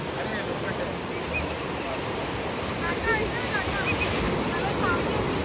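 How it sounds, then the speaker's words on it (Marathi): Sea waves wash onto a sandy beach on the Karnataka coast near Honnavar, a continuous rolling roar with wind buffeting the microphone and no clear breaks between surges. "लाटा येत आहेत"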